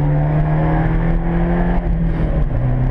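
An Abarth 124 Spider accelerates hard on the Silverstone track, its engine droning loudly and steadily with a rising tone through the gears, captured close up from the cabin.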